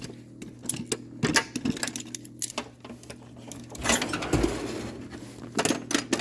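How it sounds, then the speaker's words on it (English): Metal wrenches drop one after another into a tool container, making sporadic sharp clanks and jangling clinks at irregular intervals, close by, over a low background hum. "I'm trying to drop the wrenches in there."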